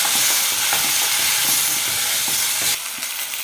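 Chopped tomatoes added to onions sizzle and hiss steadily in a hot pan for a Tamil plain pulao, with faint stirring clicks throughout and the sizzle dropping slightly near the end.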